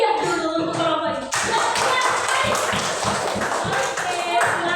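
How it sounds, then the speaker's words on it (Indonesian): Classroom applause for a student group, a dense burst of many hands clapping that starts abruptly after a voice and continues steadily and loudly to the end. "tepuk tangan yang meriah dulu untuk kelompok ini"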